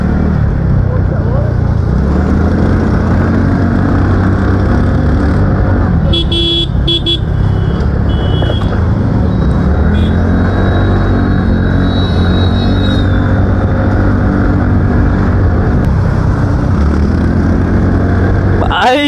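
A Yamaha FZ v3, a Yamaha FZ v4 and a TVS Ntorq scooter race on the road, engines droning loud and close with steady rumbling and wind noise, a horn sounding briefly, while a rider talks over it.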